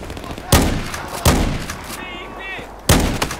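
Three loud, sharp explosive blasts go off at uneven intervals, each with a short rumbling tail: gas canisters exploding in the video game Battlefield, Shanghai level.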